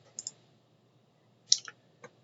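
A computer mouse clicks a submit button on a discussion board form, heard as a few faint, sharp clicks in a quiet room: two quick clicks near the start, then a louder double click and one last tap.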